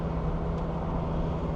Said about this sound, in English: The car is so loud.